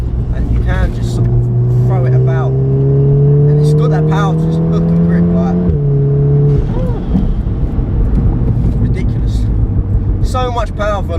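Golf R hot hatch, tuned to 380 bhp, driving on twisty roads, its engine note rising steadily under acceleration and then dropping with a gear change, loud and close, with people talking over it throughout.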